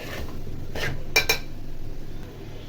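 Metal lid set onto a cooking pot of mixed vegetable curry in a home kitchen: a soft scrape followed by two quick bright clinks over quiet background noise.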